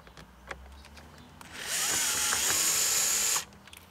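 Power drill backing screws out of a 1999–2006 BMW 3 Series dashboard during a radio installation: one close, steady whirring burst lasting under two seconds, with faint handling noises before and after.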